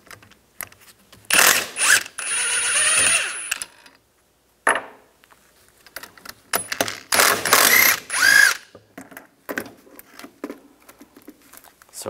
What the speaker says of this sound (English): Using a 10 millimeter hex socket, take these two pins out.